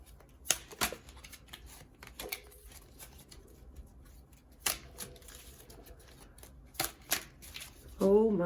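A deck of tarot cards being shuffled and handled, giving sharp riffling bursts and flicks spaced across the stretch, fairly close, with a brief voice-like sound at the very end.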